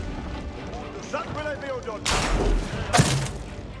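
Siege weapons firing in an Age of Empires battle at Lincoln, 1217: two heavy booming impacts, the first a long rumbling blast and the second a sharp crack about a second later, over faint game noise and brief speech.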